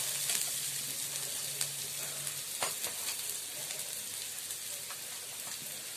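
Ingredients frying in a pan until light brown for homemade bread potato patties, a steady close sizzle with occasional stirring clicks throughout.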